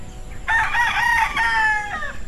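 A gamefowl rooster at a game farm crows once, loud and close, in a drawn-out cock-a-doodle-doo lasting about two seconds, with no talking over it.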